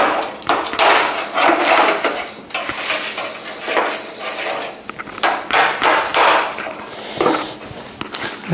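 A hammer taps repeatedly on the sheet-metal skin of a 1970 Chevrolet El Camino tailgate to separate it along the bottom edge. Quick, sharp metallic blows come in rapid irregular clusters, close and loud.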